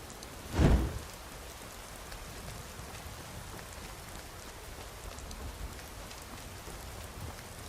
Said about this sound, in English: Another rainy day.